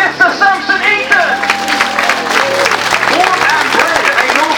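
A large outdoor crowd at a freestyle motocross team show in Norfolk applauds and cheers loudly and steadily, with an announcer's amplified voice carrying over the noise at the start.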